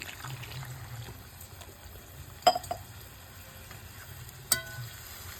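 Biryani masala sizzles faintly in a pan as it is sautéed and stirred, with a low bubbling hiss and two sharp clinks of the utensil against the pan.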